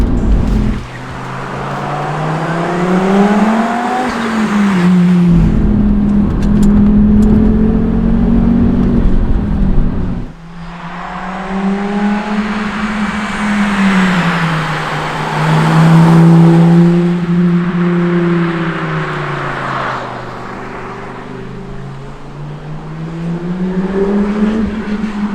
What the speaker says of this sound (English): enormous explosive thrust and fantastic 5-cylinder turbo noises